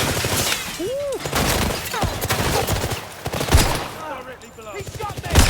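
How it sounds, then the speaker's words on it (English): Video game gunfire: a dense, rapid clatter of shots and impacts running throughout, close and busy, with voices talking over the shooting. "He shot me!"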